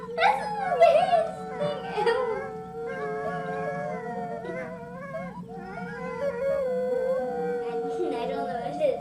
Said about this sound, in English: Wolves! Wolves are coming for lunch.